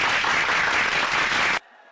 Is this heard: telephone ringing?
no